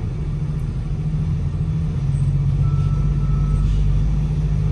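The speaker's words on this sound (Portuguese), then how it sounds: "E olha o trânsito que está aqui" Road traffic on a busy highway approaching Barcelona, heard from inside a moving car: a steady low engine and tyre rumble that stays constant and fairly loud throughout, with no voices.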